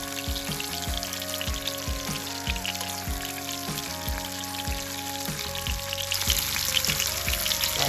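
Sand dabs sautéing in hot oil over medium heat, a close continuous sizzle with regular ticking and tapping pulses, and the frying swells louder toward the end, no talking.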